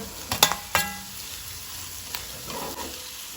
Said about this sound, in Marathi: टोमॅटो आमी मातशी 1 मिनिट परतून घेवया